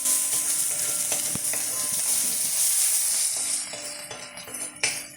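Bread and egg hash roasting in a pan gives a steady, bright sizzle throughout, with occasional sharp scrapes and clicks of stirring; no one speaks.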